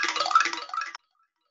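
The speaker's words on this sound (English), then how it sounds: "So if I drop that mallet down inside of this drum, this is a drum, my story drum" A wooden mallet spins inside a hollow story drum with a rattling, whirring clatter for about a second, then cuts off abruptly into silence.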